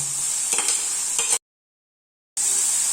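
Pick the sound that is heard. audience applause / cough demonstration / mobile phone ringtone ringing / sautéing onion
sautéing onion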